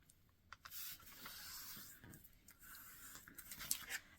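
A vintage dictionary page is folded in half, giving soft, continuous rubbing and crinkling paper noise for several seconds, close and moderately loud, with no talking.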